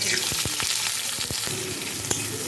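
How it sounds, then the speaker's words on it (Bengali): Chopped onions dropped into hot oil with nigella seeds in a wok on a gas stove, a loud steady sizzle and crackle with a few stirring scrapes. "এখানে আমি গ্যাসে কড়াই বসিয়ে তেল দিয়ে তাতে কালো জিরা দিয়ে দিয়েছি এবার আমি এর মধ্যে দিয়ে কুচিয়ে রাখা পেঁয়াজগুলো"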